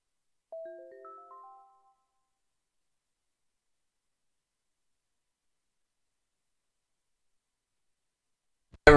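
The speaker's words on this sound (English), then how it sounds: "I got a phone call" A phone rings with an incoming call. A short melodic ringtone of a few stacked chime notes plays once, followed by a long silence before a sudden noise at the very end.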